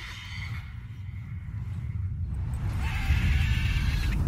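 A horse in The Witcher 3 gives a short neigh over a rumbling game soundscape, moderately loud amid low ambient noise and brief tonal effects.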